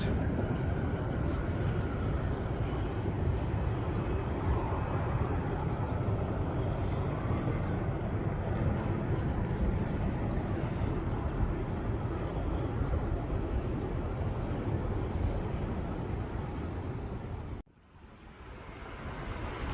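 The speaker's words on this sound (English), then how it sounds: "Southwest 3405 taxiing to the gate." A Southwest airliner taxis to the gate at Milwaukee airport, its engines a loud, steady, broad roar that holds for most of the stretch, then cuts away abruptly before building back up.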